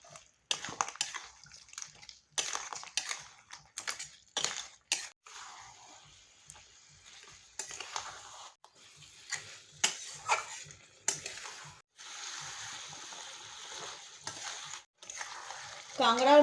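Crab and peas being stirred and sautéed in a pan with a little water: repeated scraping and clinking of a spoon against the pan in quick bursts, fairly faint, with a hissing sizzle rising near the end.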